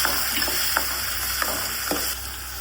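Tomatoes tossed into a pan of cooked onions sizzle and fry steadily at close range, with a few soft stirring clicks over the constant hiss.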